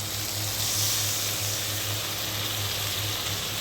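A steady hiss and sizzle rises as water goes into tomato frying in a pan for an egg curry, continuous and close with no talking.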